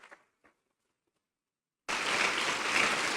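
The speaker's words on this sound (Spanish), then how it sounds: "Denle una ofrenda de palmas a Cristo" After near silence and a couple of faint sounds, a church congregation suddenly bursts into loud, continuous applause offered to Christ, holding steady to the end.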